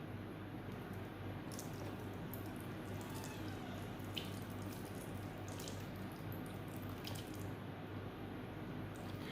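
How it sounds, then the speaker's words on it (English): Milk mixture of three milks poured generously over a tres leches cake, heard as a steady soft liquid trickle and splash, quiet and close, running continuously throughout with no talking. "in goes our 3 combination of milks. And you just want to pour it over"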